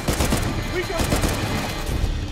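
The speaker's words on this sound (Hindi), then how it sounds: "हवा में फायर किया भाई मैंने" Rapid gunfire in Uncharted: The Lost Legacy, dense rattling bursts of shots, loud and close, with game voices and combat noise mixed in.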